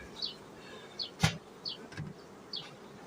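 Honeybees buzzing around a hive with honey supers, with several short passes of wings drifting close and away, plus one sharp knock partway through.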